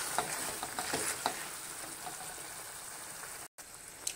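Vegetarian liver fry sizzles quietly in a pan as pepper powder is stirred in, a faint steady crackle with soft scraping clicks scattered throughout, no voices.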